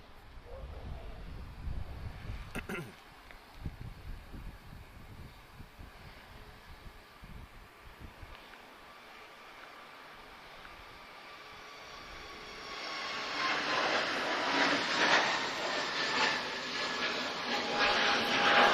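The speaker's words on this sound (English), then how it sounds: "A320 Neo off to Paris. Deciding to use the full runway." An Airbus A320neo takes off from Lisbon Airport on a full-runway departure, its engine roar swelling from distant rumble to a loud, broad sustained roar in the final seconds, with some low thumping early on.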